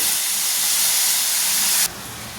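Dal and rice for khichda cook in steam, giving a loud, continuous close hiss that drops abruptly to a quieter hiss toward the end.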